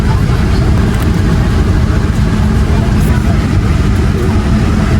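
A bus engine runs loud and steady with a deep low rumble as the bus pulls away toward the parking area, with voices faintly under the noise.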